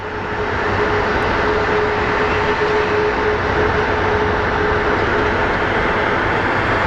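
A CRJ regional jet at Phoenix Sky Harbor airport produces a loud, continuous engine roar with a steady whine running through it, holding unbroken for several seconds with no talk.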